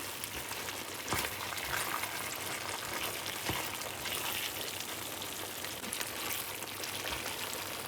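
Beef stir fry with capsicum in gravy sizzles and crackles steadily in a hot pan for a Chinese-style dish at home, a constant close frying hiss with occasional sharper pops and stirring sounds.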